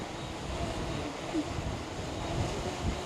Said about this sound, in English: as the wind's gusting